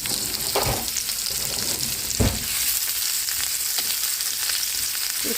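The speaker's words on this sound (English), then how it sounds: "we are frying good food. I put my onions in" Onions frying in a pan with food, a steady loud hiss of sizzling oil with a few brief stirring bumps, close up and alone.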